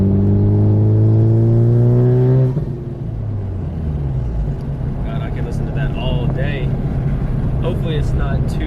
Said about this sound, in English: let's see if I can get some nice little spool noise and some blow off for you guys